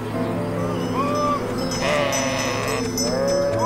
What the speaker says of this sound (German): Im Sommer mähen 900 Schafe die Skipisten.